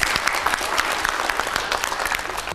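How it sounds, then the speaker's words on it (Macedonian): Applause breaks out from an audience at a school event honoring young student inventors, a dense burst of clapping that stays loud and steady throughout. "Аплауз!"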